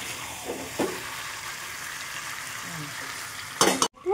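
Curry being sautéed and stirred in a pan on a home stove, with a low steady sizzle, a few soft scrapes of the spoon and a louder clatter near the end.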